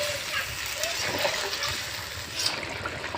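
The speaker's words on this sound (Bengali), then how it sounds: "এক বাটির মতো দিলাম গরম জল" Hot water is poured into a village-style chicken curry in a pan, giving a brief splashing rush. A person talks over it.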